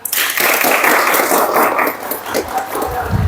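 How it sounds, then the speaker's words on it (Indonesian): Vocational-school students in a brake-system repair class burst into a dense round of clapping that swells quickly, holds for a couple of seconds and then thins out. "Oke, tepuk tangan."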